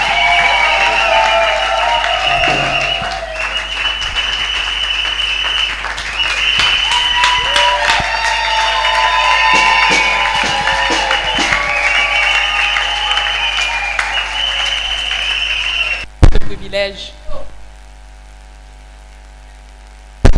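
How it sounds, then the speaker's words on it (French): A church audience cheers and applauds as a woman pastor arrives to give testimony, with loud sustained clapping, voices and a thin music tone over it, dropping off abruptly near the end. "Sous vos acclamations, pendant qu'elle arrive, nous acclamons très fort."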